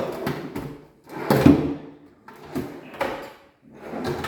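A secret drawer inside a newly installed master-bedroom wardrobe cabinet being slid open and shut several times, giving short close wooden sliding thumps and knocks with no talking.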